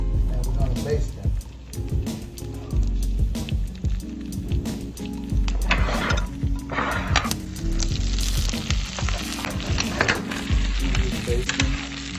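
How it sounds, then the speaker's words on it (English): Steaks baste in a pan of rosemary garlic mixture, a loud continuous sizzle and spatter with squishy stirring and spooning sounds, while a voice talks over it. "And we're gonna baste them."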